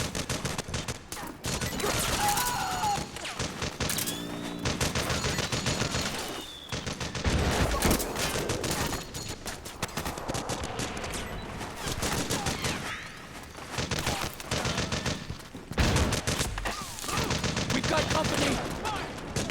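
Gunfire in the video game Metal Gear Solid 4 crackles as dense, continuous bursts of rifle and machine-gun fire mixed with impacts, while soldiers shout over the din.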